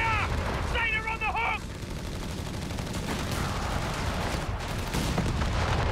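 In Company of Heroes 3, a 40mm and a 57mm gun fire repeatedly, giving sharp booming reports and crackling impacts at an even pace while a voice talks over the start.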